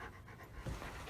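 Dog named Shasta panting at a chicken coop door: quick, breathy, rhythmic panting, close and fairly quiet over a steady outdoor hiss, with no voices.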